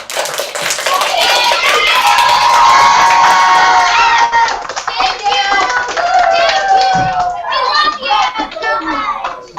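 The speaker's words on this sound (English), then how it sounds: "Give them a round of applause." A class of children on a video call cheers and claps together, loud and busy for several seconds, with kids' voices calling out over the clapping before it trails off near the end.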